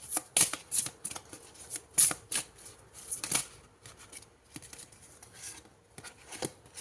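Tarot cards being shuffled, close crisp riffles and sharp flicking snaps in an irregular rhythm, continuous and fairly loud with no speech.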